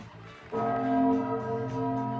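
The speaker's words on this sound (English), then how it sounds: "now we're gonna have some chime time" A clock chime strikes once and rings on with a rich, sustained bell-like tone that slowly decays, loud and close, with no talking over it.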